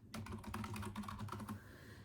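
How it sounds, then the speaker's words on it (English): Rapid typing on a computer keyboard, a quick run of close, light key clicks over about two seconds with no talking. "So I type it."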